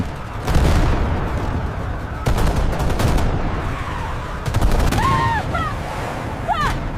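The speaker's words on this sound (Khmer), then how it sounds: "ពួកយើងឆាប់បាញ់ពួកគេទៅហើយចាប់គេឲ្យបាន" Gunfire in the Free Fire battle royale game, with bursts of rapid shots and sharp cracks repeating through a noisy in-game firefight, plus short whistling effects near the end.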